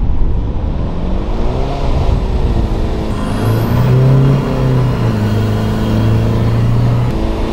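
A 300 hp Nissan Patrol 4x4 with a ZD30 engine revs hard on sand during a drag race, its rising engine drone loud and continuous and close up, with no voices.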